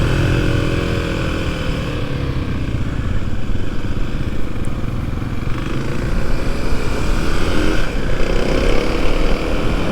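Riding a Kawasaki KLX 300SM motorcycle on a road gives a loud, continuous engine hum with heavy wind rumble, steady for the whole stretch and slightly building toward the end.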